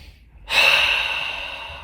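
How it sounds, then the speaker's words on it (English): A single breath during a stretching session: after a near-silent pause, a sudden, loud, airy exhale bursts out close by and slowly fades, with no talking. "And we'll just breathe."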